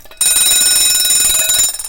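A loud, continuous metallic ringing of a vintage Peter mechanical alarm clock bell starts abruptly and rattles on steadily before cutting off.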